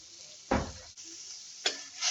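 Grated bottle gourd drops into hot ghee in a kadai, giving two short bursts of sizzling over a faint, steady background hiss.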